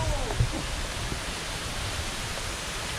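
Waterfall at Pa Mak falls in Thailand in early April, with modest water flow, making a steady broadband rush of falling water that fills the scene evenly, loud and continuous throughout.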